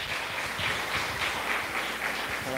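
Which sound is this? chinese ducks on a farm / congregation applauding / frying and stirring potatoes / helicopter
congregation applauding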